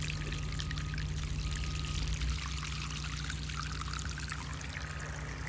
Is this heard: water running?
yes